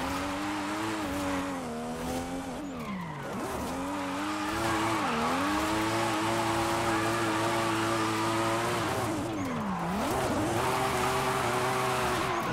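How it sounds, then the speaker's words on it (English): An Aasbo's Toyota Supra in Forza Horizon 5 revs hard in third gear on a mountain road, its engine rising and then dipping twice on shifts, loud and close, with tire squeal throughout and no talking. "This car just rips in third gear though."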